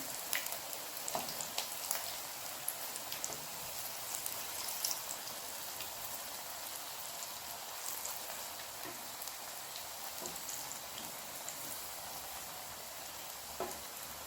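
Lentil vadas deep-fry in oil with a soft, steady crackle and scattered sharp pops, like light rain, quiet and close throughout, with no talk.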